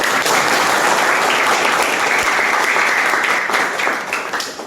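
A classroom audience at a guidance counseling session breaks into loud, sustained applause, many hands clapping densely and close, tapering slightly at the end.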